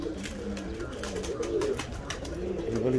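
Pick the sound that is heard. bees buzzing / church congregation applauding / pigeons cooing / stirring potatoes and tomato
pigeons cooing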